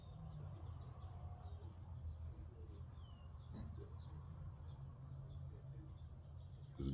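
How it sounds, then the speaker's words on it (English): Morning birdsong with many short chirps and trills from several birds, steady and moderately distant over a constant low rumble, with no talking. "them birds singing away"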